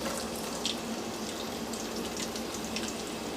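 About a cup of chopped onion goes into hot oil already crackling with three cardamom pods and a cinnamon stick for chicken roast, giving a steady, dense sizzle that stays even throughout with no talking.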